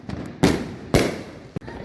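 Fourth of July fireworks bursting outside, three loud booming explosions a half second apart with a sharp crack at the end, heard close with faint background noise between blasts.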